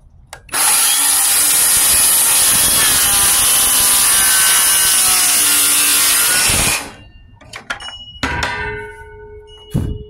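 A Hercules brushless 20V circular saw cuts through wood in a loud, steady whine lasting about six seconds, then stops abruptly, followed by a few scattered clatters and handling noises.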